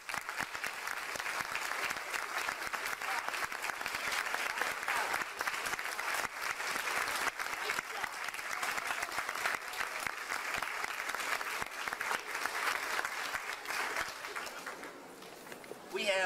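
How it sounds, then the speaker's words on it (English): An audience applauds at an elementary school graduation, a long, even, dense clapping that lasts about fifteen seconds before thinning out at the end. "to please join me with another applause"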